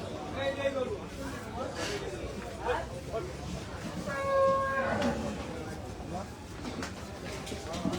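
A Holstein cow lets out a single drawn-out moo midway through, amid the busy crowd murmur and voices of the Ratankandi cattle market in Sirajganj.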